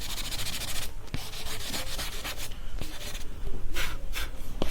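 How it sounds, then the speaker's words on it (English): Soft pastel is rubbed across paper in short repeated strokes, a dry scratchy swishing that rises and falls rhythmically with a few faint taps between strokes, close and without speech. "I'll put this color here, I'll rub it."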